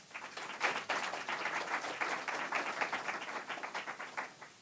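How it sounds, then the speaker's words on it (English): An audience in a meeting room gives a steady round of applause to welcome a congresswoman at a healthcare policy event, with dense, even clapping that holds for the whole stretch and no talking over it. "Please give her a round of applause."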